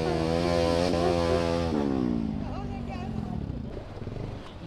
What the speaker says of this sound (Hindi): बहुत ज्यादा पानी है मेरे भाई, बाइक मेरी पूरी अंदर चली गई।